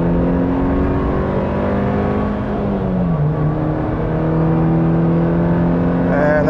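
A 2019 Suzuki Jimny engine revving hard at full throttle, climbing steadily in pitch past a 6,000 RPM redline, loud and continuous from inside the cabin, with a brief dip as a gear shifts.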